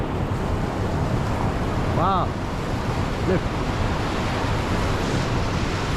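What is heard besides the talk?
rushing water of the Svartälven river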